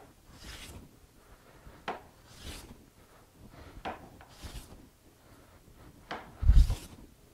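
Hand plane shaving a wooden board, a series of short rasping strokes at an uneven rhythm, quiet and close, with a heavier thump near the end.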